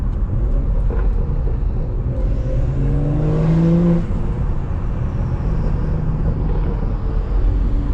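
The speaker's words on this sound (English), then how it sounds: "you hear the turbo whistles and all that" A BMW 340i or M340i engine drones steadily and loudly at night, with a rising turbo whistle swelling mid-clip as the car accelerates, then settling back.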